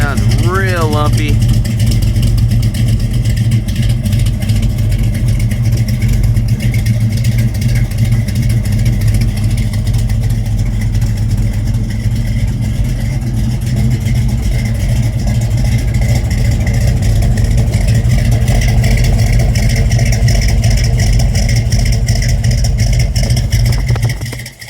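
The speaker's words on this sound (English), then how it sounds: "Dual exhaust. Sounds real lumpy." A 1951 GMC five-window pickup with a 350 crate motor rated at 357 hp and dual exhaust idles with a loud, steady, lumpy rumble that runs unbroken for the whole stretch.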